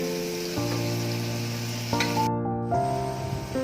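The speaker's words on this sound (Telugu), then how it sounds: "పచ్చిమిర్చిని వేయిపోతాం. వేసిన తర్వాత కొంచెం మిక్స్ చేయాలి." Green chillies sizzle and fry steadily in a pan of hot oil while being stirred, a continuous loud crackling hiss with a few sharper stirring bursts, no talking.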